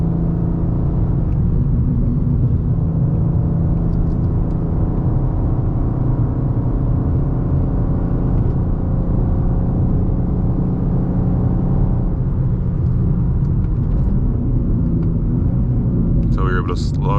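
A G87 BMW M2 with a loud exhaust drives through Las Vegas, its engine a constant deep, close rumble and drone from inside the car, with talking over it.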